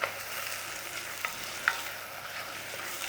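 Onions softening in butter in a pan, a faint steady sizzle with a few small clicks of stirring, close but quiet, with no speech.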